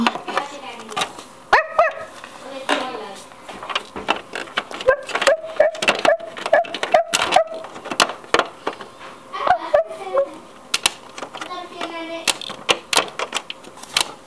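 Small dog yips and barks come in quick bursts over busy clicking and tapping sounds, close and fairly loud, with some higher squeaky calls mixed in.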